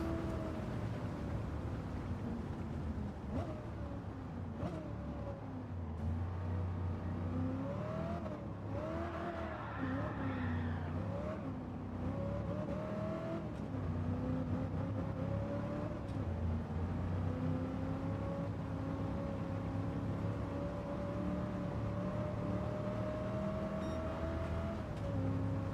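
A 1970 Dodge Challenger with a 426 Hemi engine drives in a racing video game, its engine droning steadily with rising and falling pitch through gear changes, continuous and fairly quiet.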